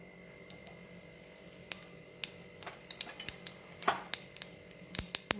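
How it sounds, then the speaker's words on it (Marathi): Mustard seeds spluttering and popping in hot oil in a wok, sharp irregular crackles that start sparse and grow quicker and more frequent over a low steady hiss. "मोहरी तडतडली"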